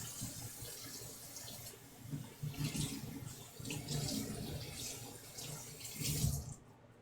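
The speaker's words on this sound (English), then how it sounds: "Give her hands a quick wash here" Hands are washed under a running kitchen tap during baking, a steady close-up stream of water splashing for several seconds before it cuts off at the end.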